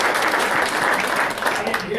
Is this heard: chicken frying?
no